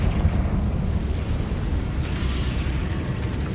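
Confringo blasting spell from Hogwarts Legacy erupting in a dense, rumbling explosion that rolls on steadily, loud and close, with no voices over it.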